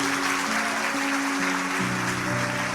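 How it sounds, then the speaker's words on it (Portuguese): A church congregation applauds in praise, a continuous hiss of clapping heard at moderate level with sustained organ or keyboard chords underneath throughout. "fique de pé e dê um aplauso para Jesus, glorificando a Ele"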